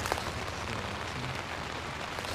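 Rain drums steadily on a tent during a trek in the Huayhuash mountains, a dense, even patter filling the air from start to finish with no voices.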